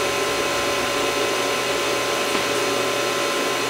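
Miyano TSV-35E CNC vertical mill lowering its Z-axis by jog wheel, a steady close whirring machine drone with a constant low hum, unbroken and alone throughout.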